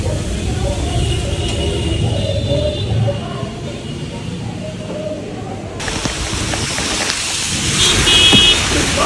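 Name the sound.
rain falling during monsoon in Kolkata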